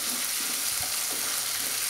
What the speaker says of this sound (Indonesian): Kemudian kembali kita aduk agar masak ya tentunya.